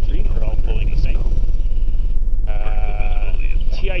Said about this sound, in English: you can see engines 1, 2, and 3 are all pulling the same.